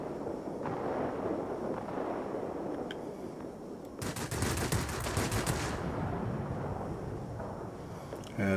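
Aircraft guns firing in World of Warplanes from a P.1056 plane, a loud continuous rattle of rapid bursts over engine drone, with a sharper, brighter stretch of fire in the middle.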